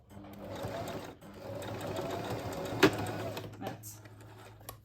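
A sewing machine runs close and steadily while stitching a polo collar, with a brief pause and a sharp click partway through. Its whir goes on over faint background sound.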